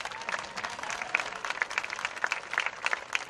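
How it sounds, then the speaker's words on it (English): Audience applause at the Homer Central High School class of 2022 graduation in a stadium, scattered hand claps rising and falling steadily throughout, moderately close and fairly faint, with a murmuring crowd underneath. "It's okay to clap, sure."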